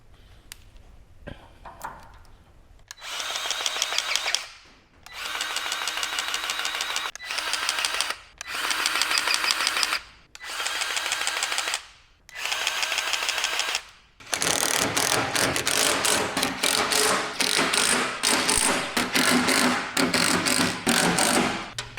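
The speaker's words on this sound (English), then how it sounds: "Grab the grease gun and get to work." A grease gun works the grease point on a cheap flail mower's roller, giving a series of loud mechanical ratcheting bursts separated by short pauses, then a longer continuous stretch of clattering pumping at the end.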